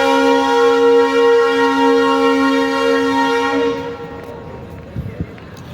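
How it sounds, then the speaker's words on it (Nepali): A loud, sustained train horn sounds at an Indian railway station as the train departs, its steady harmonic blast holding for about four seconds before cutting off, followed by quieter station noise and a few brief knocks. "अब ट्रेन जाँदैछ"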